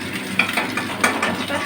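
Fish pieces go into hot oil seasoned with turmeric and salt in a kadai wok, giving a brief, steady, close sizzle with a few light clinks of a utensil.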